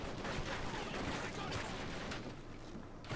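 Gunfire in Call of Duty Ghosts multiplayer, a dense continuous wash of shots and explosions with a speaking voice partly mixed in.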